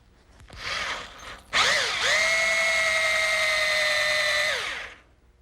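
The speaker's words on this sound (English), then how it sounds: "I need one more little area removed, right where these rivets are. And I'll do that with a drill." A power drill bores into wood beside rivets to clear a hardware mortise for a trundle bed, with a brief burst and pause before a steady, close, loud whine that holds for about three seconds, then spins down.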